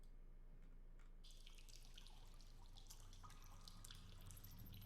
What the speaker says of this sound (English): You can hear the faint dripping of water